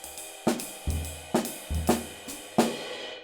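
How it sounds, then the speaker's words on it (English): Jazz drumming alone: crisp snare hits answer deep bass drum thumps in an uneven, conversational pattern, with cymbal wash ringing over the top. "stuff that has contrast between the snare drum and the bass drum"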